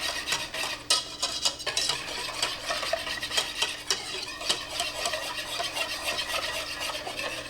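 A whisk scrapes and clinks briskly around a bowl, mixing onion powder, garlic powder, salt, pepper and cornstarch in a steady, close-up rhythmic stirring with no talking.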